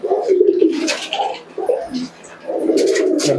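Desi Giribaj pigeons coo close by in soft, throaty, rolling calls, a few overlapping phrases with a brief lull in the middle.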